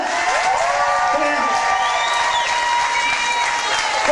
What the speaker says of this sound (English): Can I some applause for this young gladiator?